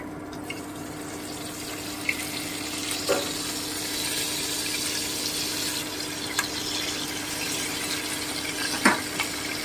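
Bay leaves dropped into hot oil in a pan for Bengali polao, with a soft steady sizzle and a few scattered clinks of a ladle stirring, quiet and close with no talking.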